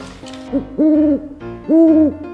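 A Hatchimal toy hatching from its egg gives two electronic owl-like hoots, each a sustained warbling tone, loud and close with a short pause between them and no talk over them.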